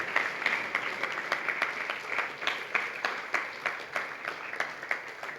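Audience applause at a Sri Rama Navami devotional gathering, a steady wash of clapping with distinct individual claps pulsing through it, moderately loud and continuous for several seconds.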